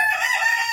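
A rooster crows at a poultry breeding farm where chickens are crossbred for raising chicks, one steady close call held for under a second with no talk over it.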